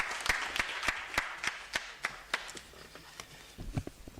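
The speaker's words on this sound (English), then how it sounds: "Let's give him a round of applause" Scattered applause at a research and innovation week opening: a few sharp hand claps ring out at a loose, fairly even rhythm, close and moderately loud, without any talking.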